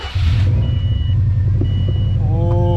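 A 2002-07 Subaru Impreza WRX engine idles steadily up close after an O2 sensor replacement, a constant low rumble, with a few short electronic beeps near the end.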